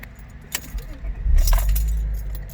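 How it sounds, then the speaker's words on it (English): A 2003 Acura 3.2TL Type-S jingles with keys before its 3.2-litre V6 cranks and catches, settling into a steady low idle close by. "She's starting up smooth as butter."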